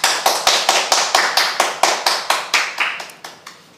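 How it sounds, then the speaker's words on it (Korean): Sharp, evenly spaced claps, about fifteen in a steady rhythm, welcome a speaker at a lecture on the climate crisis and coal phase-out, ringing close and clear before trailing off. "큰 박수로 모시도록 하겠습니다."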